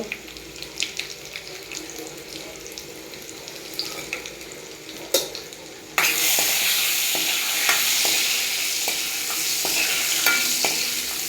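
Quiet kitchen clatter, then a sudden loud, steady sizzle of spices and asafoetida hitting hot oil for masoor dal tempering, crackling continuously to the end with small pops.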